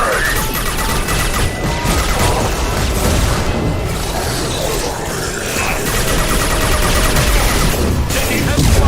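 Heavy gunfire in a sci-fi action video game, a dense, continuous barrage of shots, crashes and booms, loud and sustained throughout, with faint voices in the mix.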